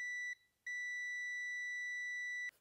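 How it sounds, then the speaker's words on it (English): A steady high-pitched electronic beep from a multimeter continuity test, briefly interrupted twice, then cut off; clean and alone against near silence. "Once you have continuity through your leads to the meter, of course it beeps"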